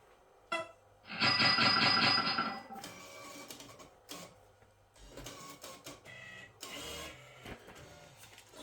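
A Vega note recycler in a Bellfruit fruit machine takes in a banknote, giving a loud whirring mechanical burst followed by quieter clicks, feeds and short motor whirs as the note wraps onto the cylinder, with no talking.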